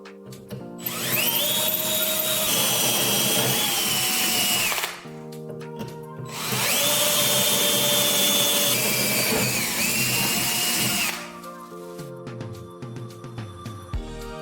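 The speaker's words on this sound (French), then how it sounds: "Prenez une rondelle métallique et percez 4 trous." A power drill bores holes into a metal washer in two long, loud bursts of steady whining, each lasting several seconds, separated by a brief pause, followed by quieter clattering handling noises.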